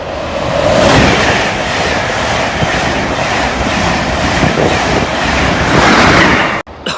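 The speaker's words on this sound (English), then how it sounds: "What a beast of a train." An Intercity 225 train hauled by a Class 91 electric locomotive roars past close by, a loud, sustained broadband rush with rhythmic pulsing from the carriages and heavy wind buffeting, ending abruptly.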